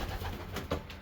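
A racing pigeon hen coos in a loft, a soft low murmuring call with a slightly stronger note near the end, close by against a steady background hum.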